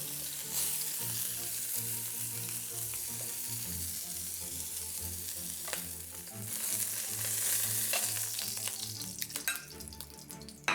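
Italian sausage links sizzle and crackle steadily in a hot pan, with a low hum and occasional utensil scrapes as the pieces are turned, loud and close throughout with no talking.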